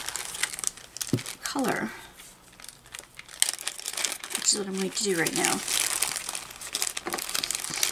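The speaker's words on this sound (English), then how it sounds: "save the little plastic bags" Small plastic bags from craft kits crinkle and rustle while gems are put away, with someone talking over much of the handling.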